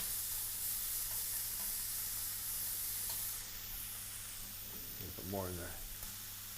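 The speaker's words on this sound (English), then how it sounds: "Put your anchovy butter in the pan. Just let that melt down." Anchovy butter melts and sizzles in a pan for pork chops, a steady broad hiss of frying running throughout, with a brief spoken remark near the end.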